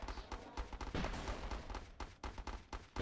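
Machine gun fire in the real-time strategy game Battle Islands: Commanders, rapid repeated bursts of shots at low volume, packed closely together with little pause between them.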